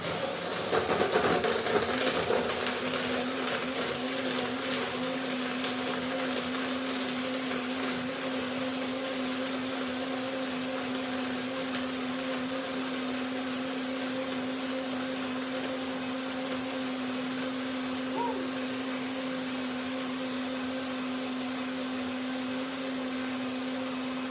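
A blender blending cashew cream runs steadily and loudly for the whole stretch, a constant whirring motor drone after a brief rougher start.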